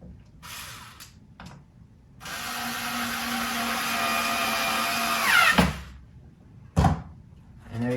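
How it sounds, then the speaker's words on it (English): Power driver sinking screws into a wooden panel: a sustained whirring run of a few seconds that rises in pitch near the end, with short clicks and knocks before and after. "you're going to want to insert the screws to make sure that it is in the correct position."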